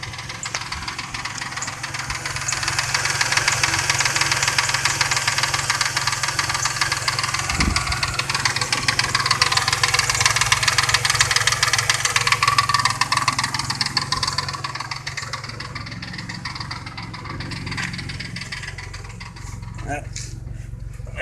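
A car engine treated with Marvel Mystery Oil idles steadily with a low, even rumble and faint ticking, the level dipping slightly partway through, while a person talks over it.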